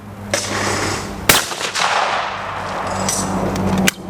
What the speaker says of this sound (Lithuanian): iškyla antis, išleidžiam ir šaunam tiesiai antį, bet prie to nestabdant šautuvą